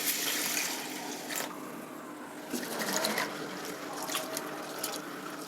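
Red unpolished Rajamudi rice and lentils are swished and rinsed in water by hand, giving soft, close sloshing and trickling with faint splashes.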